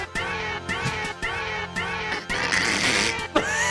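Cats meowing in the Jingle Cats novelty recording, a series of repeated pitched meows in a tuneful rhythm, loud and close, with a background tone underneath.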